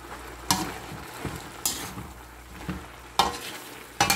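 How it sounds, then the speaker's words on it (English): Sautéed long squash and butternut squash with spinach is stirred slowly in a pan, a low sizzle broken by about five distinct scraping strokes at irregular intervals, close up. "And so just simply try to mix it slowly and gently."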